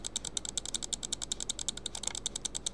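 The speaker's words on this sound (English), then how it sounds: "How's that, you getting tortured right now by the clicking noises?" Fast, evenly spaced sharp clicks, around eight per second, close and crisp like a ratcheting mechanism, continuing without pause over a faint low hum.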